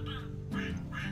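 A duck quacks twice in quick succession, close and distinct, each call a short nasal honk with a slight pause between them, no speech over it.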